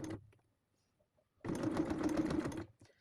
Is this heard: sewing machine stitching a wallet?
yes